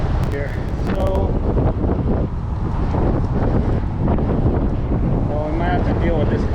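Strong gusting wind roars and buffets the microphone steadily throughout, recorded while cycling along the Courtney Campbell Causeway beside choppy water.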